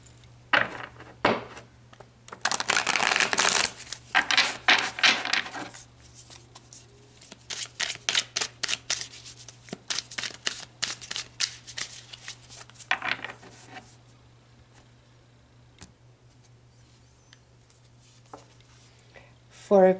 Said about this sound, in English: Do a shuffle for you guys.